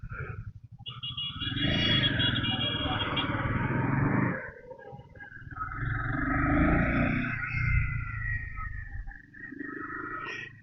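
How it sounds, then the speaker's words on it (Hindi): Motorcycle engine noise captured on an action camera while riding, a continuous loud rumble with wind buffeting that dips briefly midway and swells again. "बाइक की नॉइज़ कितनी आ रही है"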